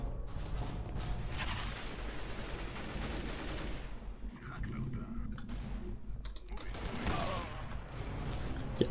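Gunfire in the shooter game CS:GO, including a sniper rifle shot, bursts repeatedly across the clip amid dense, loud in-game battle noise with crashes and impacts, never dropping to quiet.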